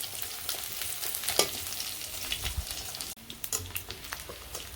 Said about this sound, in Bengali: পোলাও রান্নার জন্য পেঁয়াজ দিয়ে দিচ্ছি পেঁয়াজটা আগে ভেজে নেই